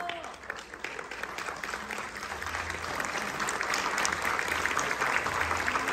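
Studio audience at a televised music performance applauds with a continuous rush of clapping that swells slightly toward the end, with a voice faintly heard at the start.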